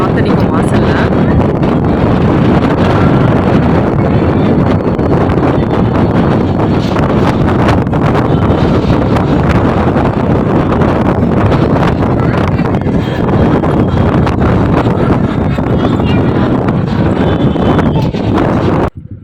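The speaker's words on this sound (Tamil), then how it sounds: "அவ்வளோ காற்றடிக்கும் வாசலில்." Strong wind roars continuously at a temple entrance in Tenkasi, buffeting the microphone with loud, steady rumbling gusts for the whole stretch before cutting off abruptly.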